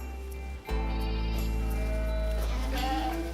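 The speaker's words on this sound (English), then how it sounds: "To produce good meat, these goats need plenty of protein too." Meat goats in Northern Ireland bleat in a steady, drawn-out wavering cry with a brief break, then a rising call near the end, close and loud.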